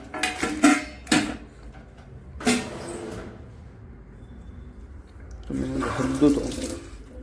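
Water runs from a tap in a few short bursts, mixed with the clatter of dishes in a sink, against a quiet room background.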